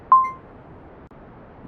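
A single bright landing-indicator ding from Kerbal Space Program rings out once near the start, then fades into a faint, steady background hiss.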